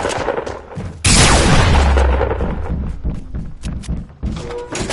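Shotgun blast in Fortnite gameplay: one loud, sudden boom that cuts in sharply and rings out as a long, heavy tail, with scattered smaller game clicks and thumps around it.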